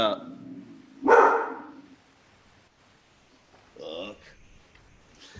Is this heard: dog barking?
yes